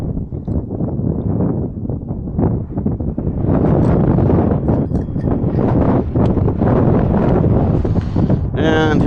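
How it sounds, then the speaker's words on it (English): Strong wind gusts blowing across a microphone outdoors on a roadside in New Mexico, a loud, continuous buffeting roar that swells midway and stays heavy to the end. "And here comes the wind."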